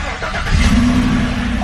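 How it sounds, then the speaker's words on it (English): A V8 Chevrolet Colorado truck engine starts up close and loud: a short crank catches into a rising, settling rumble about halfway through. Faint background noise precedes it. "Let me start it real quick."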